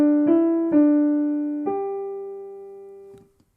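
Piano playing a short Jingle Bells phrase: four clear, separate notes struck one after another, ringing out and fading, then a soft final touch, alone with no talking.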